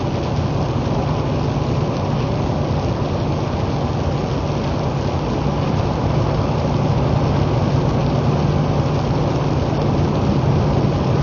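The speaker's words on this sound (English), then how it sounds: "since it's windy and raining, and it's hitting us from, I'm very sure, south" Steady, dense rain drums on a car roof and windows on a windy day, driving on US 277 between Haskell and Wichita Falls, Texas, a constant hiss with a low engine rumble beneath it and no voices.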